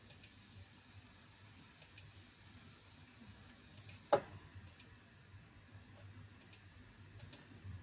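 A single sharp computer mouse click stands out over a quiet fan hum, with a few faint ticks scattered around it.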